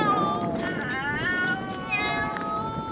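Several feral cats from remote San Nicolas Island meow and yowl loudly and continuously at close range, their wavering, overlapping cries filling the whole stretch.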